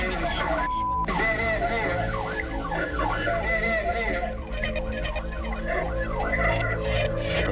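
Police car sirens wail loudly and continuously during a car chase, overlapping rising and falling tones filling the whole stretch over a low engine hum.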